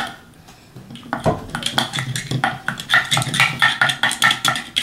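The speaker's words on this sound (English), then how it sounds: "You want to finish stirring for me, please?" A utensil scrapes and clinks against a bowl while a mixture is stirred, giving a steady run of close, irregular taps and scrapes with no talk over it.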